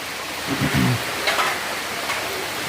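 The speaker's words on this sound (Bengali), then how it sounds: "আবার ঝমঝম করে বৃষ্টি হচ্ছে" Heavy rain pours outside a house at night, a dense, even roar of falling water with a faint voice briefly underneath.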